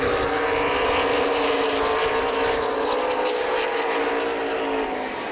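Race cars in a CRA Super Series race at Columbus Motor Speedway, a dense, loud, continuous engine roar from several cars together that fades a little at the end.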